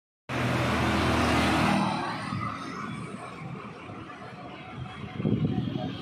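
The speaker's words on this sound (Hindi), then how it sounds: "ये बोलेरो गाड़ी है" Mahindra Bolero car engine, loud and close with a steady low rumble that eases after a couple of seconds into a quieter running hum.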